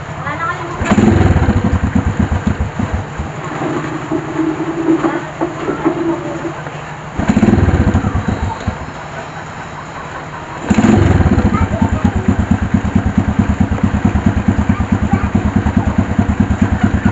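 A motorcycle engine idling after a repaired, rewound stator coil was refitted, running loud and close with a steady rhythmic putter that dips briefly twice before picking back up, with a voice talking over it.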